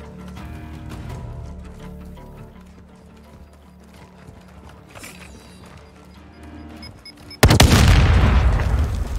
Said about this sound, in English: Set security and confirm detonation.